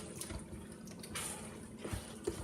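Tap water splashes and trickles into an emptied tomato can during chili preparation, a soft, faint running and sloshing sound with light metallic drips.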